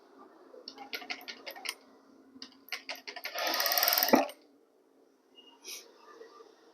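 Sewing machine stitching darts into a lined blouse with thread piping, heard as short bursts of stitching and then a longer steady run up close, with brief pauses between passes and faint background sound.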